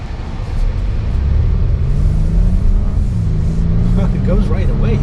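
A 2022 Volvo XC90 Inscription SUV in dynamic mode pulls away and accelerates, its engine rising into a smooth climbing drone over road rumble inside the cabin, with a person speaking toward the end.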